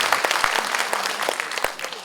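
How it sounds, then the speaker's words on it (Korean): Applause rises from the audience at a district mayor's commemorative speech, scattered sharp claps forming a lively, close burst of clapping that thins slightly toward the end. "박수 한번 주십시오."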